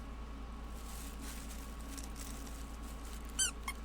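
Faint rustling, then one sharp squeak from a rubber hedgehog dog toy followed by a softer second squeak, all against a low steady hum.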